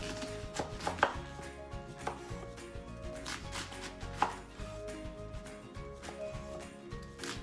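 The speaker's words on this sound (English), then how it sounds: "So I just cut my cabbage very basic, nothing special, just in strips at first" Knife chopping cabbage into strips on a cutting board, a steady series of crisp, fairly close chops with uneven rhythm, no talking.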